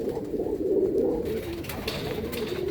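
Tournament racing pigeons cooing close by in a loft, a steady, soft, throaty warble that continues throughout over faint background noise.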